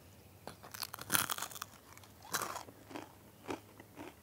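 Crisp crunching bites on crusty wood-fired pizza, several sharp crackles spaced over a few seconds, close and fairly quiet, with no talking.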